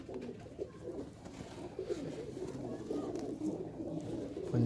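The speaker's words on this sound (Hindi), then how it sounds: "आला कबूतर है, क्या बात है।" Racing pigeons cooing steadily in a loft, a dense layered murmur of many birds close by, continuous and moderately loud with no talk over it.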